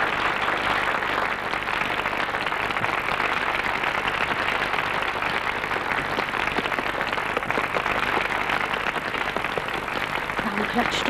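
Audience applause at a concert performance, a dense, steady wash of clapping from a crowd that fills the whole stretch, with speech faintly mixed in.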